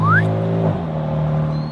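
A BMW M3 rolls past up close, its engine droning loud and steady and then dropping in pitch as it goes by.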